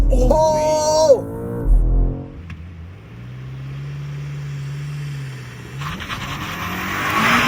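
A 2025 BMW M5 Touring, a 4.4-liter turbo V8 plug-in hybrid, launches hard with launch control, its engine droning and rising steadily for several seconds after a brief tire squeal, following short bursts of speech at the start.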